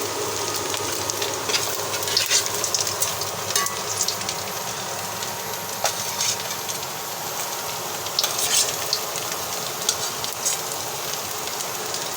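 Fish balls frying in hot oil for a homemade fish ball dish, a steady close sizzle and crackle running throughout with occasional sharper pops, no talking.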